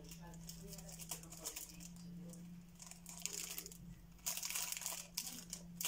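A homemade plastic surprise packet with Hello Kitty stickers is peeled open and crumpled, giving close, irregular crinkling and crackling bursts over a steady low hum, loudest toward the end.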